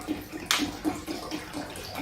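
Water from a bottle pours into a ceramic cat fountain, giving a brief bright splash near the middle over a steady low trickle of running water, close and fairly quiet.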